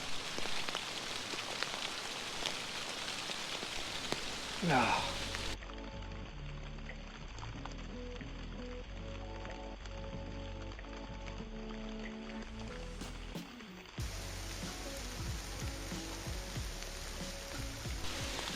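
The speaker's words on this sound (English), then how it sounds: "That rain is just relentless. If anything, it's just getting heavier and heavier and heavier." Heavy, relentless rain pours in a dense, steady hiss, with a brief gasp from a voice early on.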